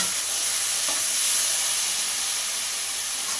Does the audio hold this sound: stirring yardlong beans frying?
yes